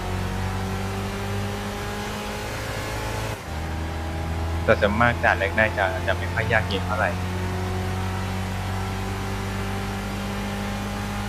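Race car engine droning steadily in Gran Turismo 6 during a National B License test, a constant low hum with a brief dip near three seconds, while someone talks over the middle stretch.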